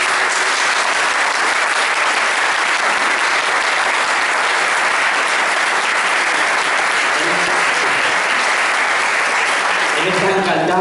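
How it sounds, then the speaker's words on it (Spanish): Sustained, loud applause from a village audience welcoming an honoured guest at a tribute event in Monleras, steady dense clapping filling the whole stretch with little variation. "me gustaría de entrada que lo recibiéramos con un fuerte aplauso"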